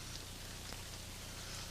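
Heavy tropical rain over an archaeological excavation in Africa, heard as a constant, even hiss of downpour that stays fairly faint and unbroken.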